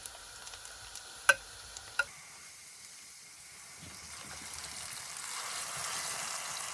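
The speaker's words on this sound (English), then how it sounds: "I'm going to fry the plantain a little at a time." Plantain slices fry in hot oil, giving a soft, steady sizzle that builds gently, with a couple of sharp utensil clicks near the start and no voices.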